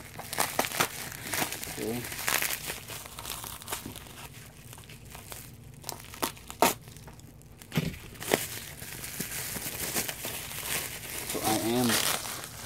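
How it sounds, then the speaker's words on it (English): A birthday package arriving through customs is torn open, with repeated crinkling and rustling of the wrapping at close range. The bursts come irregularly over several seconds, and a person speaks briefly between them. "Unwrapping this thing."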